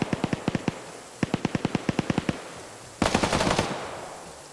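Rapid bursts of automatic gunfire in a military video game, several rhythmic volleys of sharp cracks, then a louder, denser close burst before fading.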